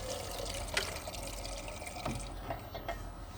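A kitchen tap runs quietly in a camper van, water streaming with small splashes and drips into a sink, a soft continuous trickle with a few brighter spatters.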